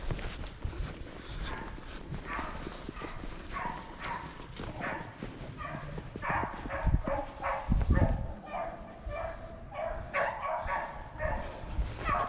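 Hunting dogs barking and baying at a distance while running a rabbit in the woods of southwest Virginia, irregular yelps scattered across the whole stretch over a steady outdoor background.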